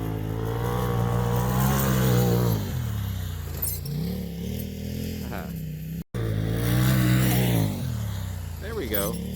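Kawasaki Ninja 400 motorcycle at full throttle, engine note rising and falling through several pulls with loud wind rush, while riders talk over it throughout.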